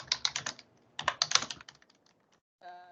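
Typing on a computer keyboard, close rapid bursts of key clicks in two clusters with a short pause between, tapering to scattered taps before a brief tonal sound at the end.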